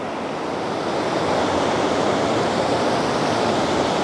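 Continuous surf on a beach at El Majahual in El Salvador as the tide comes in, a dense, even hiss and rumble of waves, near and loud, without talk.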